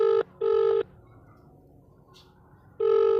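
Telephone keypad tones as a phone is dialed to call a doctor: three separate steady beeps, two close together at the start and one at the end, with quiet room hiss in the gaps.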